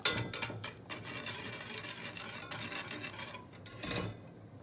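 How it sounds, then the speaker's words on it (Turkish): Spoon stirring chocolate sauce poured over a kedi dili (ladyfinger) cake in a home kitchen: close, steady rubbing and scraping strokes with a few sharper clinks near the end, no talk. "Şimdi karıştıralım güzelce."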